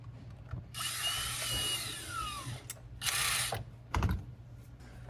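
Thumb screws being tightened on a gun's cheek rest, two short close bursts of ratcheting, whirring mechanical noise separated by a quiet gap, with faint handling clicks around them and no speech.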